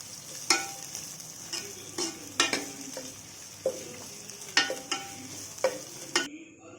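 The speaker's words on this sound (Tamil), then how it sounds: "இப்போ நம்ம நறுக்கி வச்சுருக்கிற கோஸ் அதில் சேர்த்துக்கலாம்" Cabbage and capsicum stir-fried with masala in hot oil, a steady close sizzle broken by a string of sharp scraping stirs at irregular intervals, with no voices.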